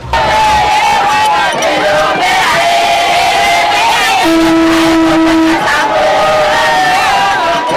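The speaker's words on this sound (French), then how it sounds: "C'est une foule immense qui est venue accueillir ce digne fils du terroir." A huge crowd cheering and shouting a welcome at Gemena airport, loud and continuous, with many voices yelling together and sustained tones rising over the roar throughout.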